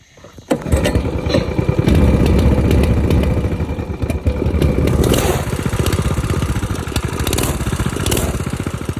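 Coleman 196cc mini bike engine in stock form, starting up and then running steadily with a fast, even putter, loud and close, with no talking.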